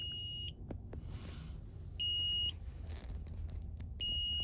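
A power inverter at a freezing winter campsite emits short, high electronic beeps in three half-second bursts spaced about 1.5 seconds apart, faint over low background rumble.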